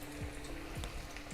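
Onion pakora batter sizzles in hot oil, a faint but steady crackling fry close by, with a few soft splashy bursts as pieces drop in, and no talk.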